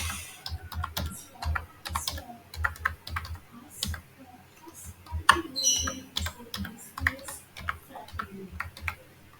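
Quick bursts of clicking keystrokes on a computer keyboard while an email address is typed into a registration form, uneven clusters of close taps with short pauses between them.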